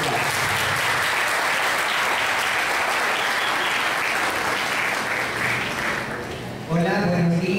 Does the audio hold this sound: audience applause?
yes